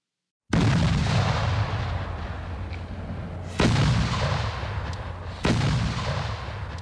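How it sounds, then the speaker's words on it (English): Cannon artillery fire: three heavy booming blasts, each a sudden loud crack followed by a long rumbling decay, spaced a few seconds apart after a moment of silence. "The house shakes with the roar of cannon fired upon poor Boston"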